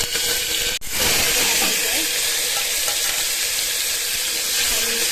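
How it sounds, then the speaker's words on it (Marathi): Steady, loud sizzling and frying hiss as tomatoes sauté in oil in a hot pan, continuous throughout, with a brief clatter near the start. "टोमॅटो छान परतले"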